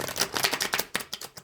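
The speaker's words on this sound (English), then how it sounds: "Couple more shuffles," A deck of tarot cards being shuffled by hand close up, quick riffling bursts of papery flutter and soft slaps in an uneven rhythm, heard alone.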